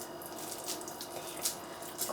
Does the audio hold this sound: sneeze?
no